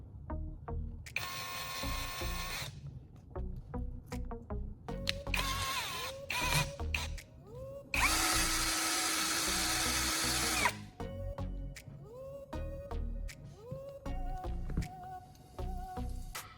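A cordless drill spins the steel core of pruning shears in short whirring bursts and one longer high-pitched run, with clicks and handling knocks between the bursts, recorded up close.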